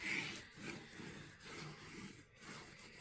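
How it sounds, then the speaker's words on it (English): A burnishing tool rubbed firmly over chipboard for a dimensional card, giving soft, close scraping strokes in a slow back-and-forth rhythm, quiet with no voices. "You want to give this a really good burnish on both sides when you're doing the chipboard lift."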